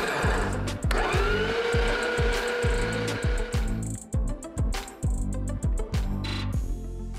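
A meat mincer grinding cut beef sirloin for burger patties: a loud steady motor whine over rapid rhythmic low thumping. The drone later drops away into scattered clatter and knocks.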